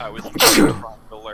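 A sudden loud sneeze triggered by Cajun pepper bursts out mid-sentence at close range, a sharp noisy blast between stretches of someone talking.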